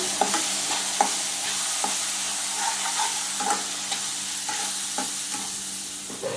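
Chilli powder masala fries in a pan for a mushroom gojju, an even close sizzle with a run of rhythmic spoon scrapes and taps as it is stirred, no voices.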